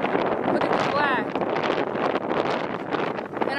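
Strong wind roars and buffets the microphone continuously outdoors, loud and gusty, with brief whistling tones rising through the rush.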